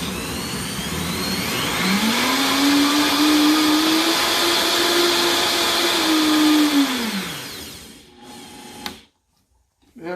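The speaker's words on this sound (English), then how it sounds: "let's go ahead and start blending the first batch" A blender runs steadily on a batch of hot vegan tomato soup, its loud whirring motor holding for several seconds before it winds down and cuts off.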